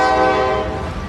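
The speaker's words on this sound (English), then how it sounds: "As a freight train rolled slowly through Lexington, Kentucky today" A freight train rolls slowly through Lexington, Kentucky, giving a loud, sustained tonal rumble like a horn or wheel squeal that fades slightly toward the end, with no voices.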